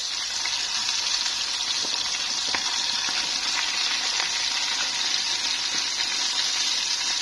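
Food for a child's breakfast sizzles steadily in a frying pan, a dense continuous hiss with occasional small pops and crackles, close and even in loudness with no talk.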